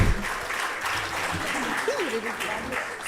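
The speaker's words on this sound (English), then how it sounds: "Ladies and gentlemen, help me with a round of applause" Audience applause at the inauguration of a university genomic medicine building, steady dense clapping from a crowd, with a voice speaking faintly over it partway through.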